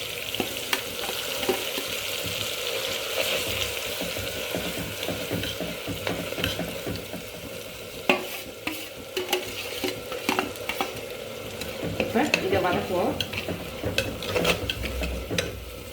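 Ground onion paste fries in a pan for a Tamil-style fish curry, giving a continuous close sizzle with frequent spatula scrapes and clinks throughout and a louder burst of stirring near the end.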